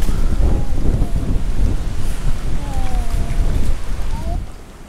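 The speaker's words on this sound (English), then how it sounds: "Wow, it is windy." Strong wind buffets the microphone in Santa Barbara, California, with loud, roaring gusts and low rumbling, steady for several seconds before easing off; faint voices underneath.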